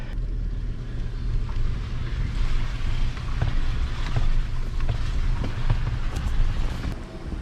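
Water rushing and churning around a 2022 Nissan Frontier Pro-4X as it pushes through a river off-road, a steady close wash of flowing water and wind rumble with scattered splashes throughout.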